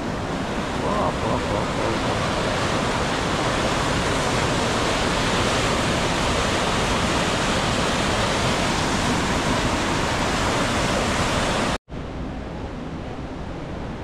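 The Edessa waterfalls and river give off a loud, unbroken roar of rushing water that fills the whole scene, briefly cutting out near the end before resuming slightly quieter.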